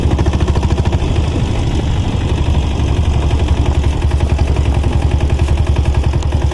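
A diesel Bullet motorcycle engine runs close and loud, its steady, rapid thumping beat repeating evenly throughout.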